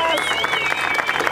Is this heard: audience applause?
yes